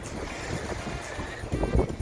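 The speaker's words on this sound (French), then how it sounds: "Là, on est vent de travers. Et on a les vagues de travers." Steady wind rushes across the microphone over a broad wash of water and waves slapping a moving sailboat on the ocean, sailing in a crosswind with waves from the side, with a louder splash near the end.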